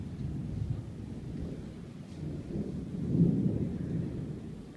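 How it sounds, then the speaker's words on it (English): Low rolling thunder from a storm over the sea between Ibiza and the mainland, heard from the coast at Cala Saona on Formentera; a steady distant rumble that swells briefly near the end, with no voices. "During a thunderstorm, which seems to be raging between Ibiza and perhaps the mainland."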